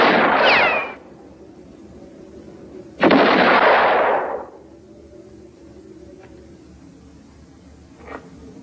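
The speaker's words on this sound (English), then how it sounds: "Say, Tim, how many shots do you have left in your rifle?" Two loud rifle shots ring out a few seconds apart in a western film, each a sharp crack trailing off in a long echo, followed by faint small clicks.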